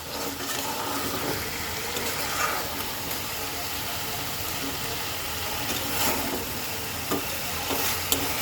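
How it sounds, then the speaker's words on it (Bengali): Chicken pieces and fried potatoes sizzle softly in a pan while being stirred and scraped, a quiet steady frying hiss with occasional utensil clinks. "ঠিক এই সময়ে আমি দিয়ে দেব ভেজে রাখা আলুটা এবার এটা দিয়েও সুন্দর করে কয়েক মিনিট কষাবো আমি"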